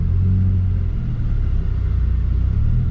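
A 1988 Mazda 323 pulls away with a low, steady engine rumble and a mild rise in revs, heard loud and close throughout with no talking.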